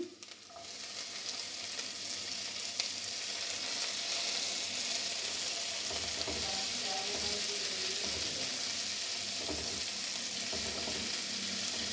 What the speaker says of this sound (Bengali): এবার আমি এর মধ্যে পেঁয়াজ কুচিগুলো ঢেলে দেব। এবার দিয়ে দেব টমেটো কুচি।